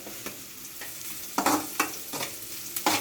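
Prawns frying with pepper in a pan make a low background sizzle, broken by a rhythmic series of sharp stirring scrapes and sputtering bursts every half second or so.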